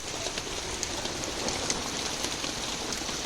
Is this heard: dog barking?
no